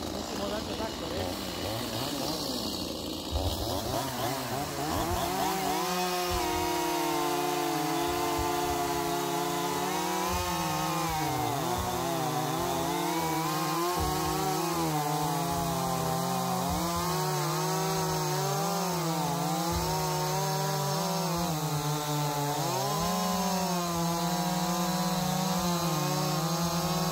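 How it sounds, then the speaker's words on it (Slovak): Hand saws rasp through wood in a continuous, loud back-and-forth cutting sound that holds steady throughout, with the pitch of the strokes wavering as the blades work. "Niečo sme s pílkami napílili"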